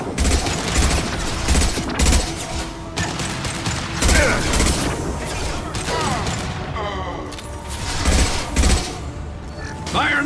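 Game combat in Mass Effect 2 with a concussive shot going off amid dense, repeated gunfire bursts, mechanical clanks and loud impacts, the volley sustained and busy throughout.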